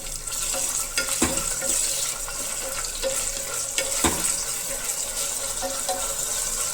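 Tomatoes fry in a pan for pulao, a steady close sizzle with occasional sharp crackles and pops, continuous and fairly loud with no talking.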